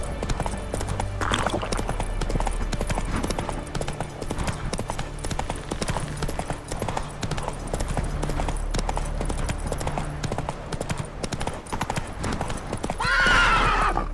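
Horse in The Witcher 3 galloping in steady clip-clop hoofbeats throughout, with a short whinny near the start and a louder, drawn-out neigh near the end.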